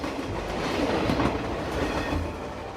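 A subway train runs on rails with a steady, loud, close rumble and faint clickety-clack from the wheels, no voices.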